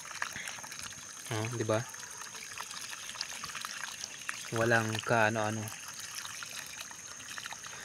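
Fresh well water from high up pours steadily and continuously onto a farm plot, a constant rushing wash heard beneath two bursts of nearby speech.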